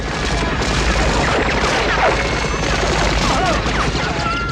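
Dense, continuous gunfire and explosions fill a battle scene from the film Red Scorpion, loud and chaotic throughout with no clear pause.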